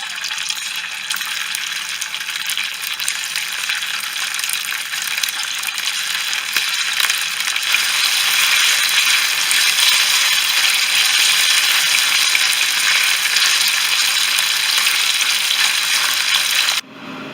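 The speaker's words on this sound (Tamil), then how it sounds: "இப்போ மேரினேட் பண்ண சிக்கனை ஃப்ரை பண்ணி எடுத்துக்கிறோம். எண்ணெய் காயட்டும். இப்போ சிக்கன் போடலாம்." Marinated chicken fries in hot oil for chicken fried rice, a close, continuous hissing sizzle that swells louder partway through and stays steady, with no talking.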